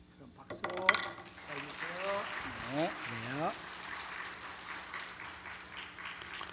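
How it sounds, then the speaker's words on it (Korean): A church congregation applauding during a worship service at a medal presentation, a voice speaking briefly before a broad, sustained wash of clapping fills the rest of the moment. "그럼 박수 해주세요."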